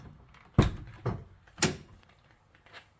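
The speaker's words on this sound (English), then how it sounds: "we'll open the front door" The front door of a modified Ford Transit camper van opens with a sharp latch clunk, followed by two softer thuds and a faint final knock, close by and without talk.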